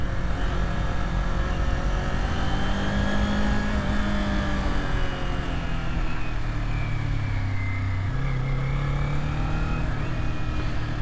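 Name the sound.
Kawasaki Z400 motorcycle riding mountain corners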